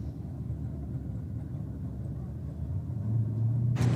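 A Euro Muscle car races down the drag strip at Sydney Dragway, a distant low rumble of engine noise that builds and grows louder toward the end of the pass.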